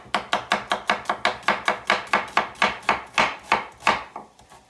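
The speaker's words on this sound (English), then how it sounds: "the onion, which julienne means to slice into very thin slices" A knife slices an onion into thin julienne strips on a cutting board, about twenty quick, even chops in a steady rhythm, close and crisp with no talking.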